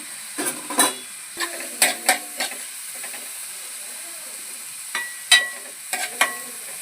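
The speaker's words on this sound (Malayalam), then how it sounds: "ചെറിയ ചെറിയുള്ളി പച്ചമുളക് നന്നായിട്ടൊന്ന് വഴറ്റിയെടുക്കേ" Small onions and green chillies sautéing in a pan with garlic: a soft background sizzle broken by a handful of sharp scraping and clattering stirring strokes, bunched in two bursts with a quieter gap between.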